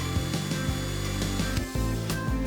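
A drill with a 5/64 bit bores holes in a plastic NES controller shell, giving a steady close whir broken by repeated short grinding bursts as the bit bites, with no talking.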